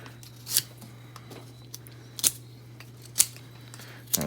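A Microtech Socom Elite knife cuts through sticks, giving four sharp, crisp snapping cuts at close range against a faint steady hum.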